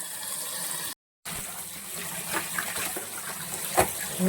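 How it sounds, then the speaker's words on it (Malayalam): Running tap water rinses fresh fenugreek leaves in a home kitchen, a steady gushing splash with a brief break and a few sharper splashes toward the end, with no talking. "ബാക്കി നമുക്ക് നന്നായിട്ട് കഴുകിയെടുക്കാം."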